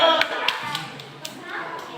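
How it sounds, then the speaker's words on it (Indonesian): Primary school pupils in a classroom clap together on cue, a handful of distinct sharp claps spaced roughly evenly, with children's voices and a teacher talking throughout. "Tepuk tangan."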